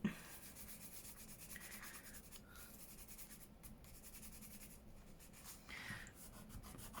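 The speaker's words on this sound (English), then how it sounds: "I just rub that bit of glue off now while it's wet." A finger rubs wet glue off the paper of a handmade mini notebook, making faint, soft, repeated scuffing and brushing strokes close by, with no talk.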